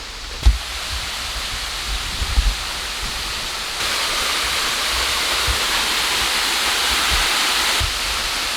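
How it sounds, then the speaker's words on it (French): A waterfall in Manuel Antonio National Park, Costa Rica, pours as a loud, steady broadband rush of falling water, with a few brief thumps early on and no talking. "J'entends l'eau qui tombe."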